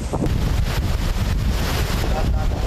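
A typhoon drives strong wind and waves at sea off the coast of Cagayan. Heavy, continuous gusts roar and buffet the microphone, with surf churning underneath throughout.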